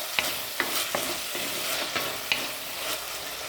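Tomatoes sautéing in a pan, a soft sizzle under repeated spoon stirs and light scrapes against the pan every half second or so, close and fairly quiet.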